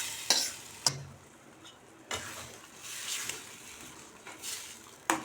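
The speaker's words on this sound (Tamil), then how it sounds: "இந்த தேங்காவை சேர்த்து ஒரு பெரட்டி விட்டுலாம்" Grated coconut paste is stirred into ridge gourd kootu with cooked lentils in a pan, several distinct spoon scrapes and clacks against the metal over a low sizzle, close and without talk.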